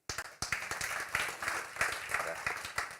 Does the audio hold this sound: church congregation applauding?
yes